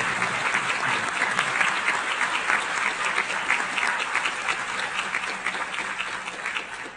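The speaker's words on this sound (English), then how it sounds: "I would like the committee to give him a round of applause in appreciation" A UN committee audience applauds the ambassador, a dense, even round of clapping from many hands in a large meeting room, sustained for several seconds and slowly tapering, with no speech.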